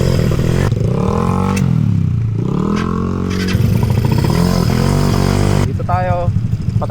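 A Yamaha Fino scooter with a 232cc engine runs loudly nearby, its motor rising and falling through revs with rattling clatter, while voices speak over it.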